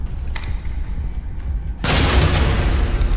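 A gunshot fired at a floorboard in the horror game Amnesia: The Bunker: a sudden loud blast that cuts in abruptly over a low rumbling ambience and leaves a dense, sustained roar trailing after it.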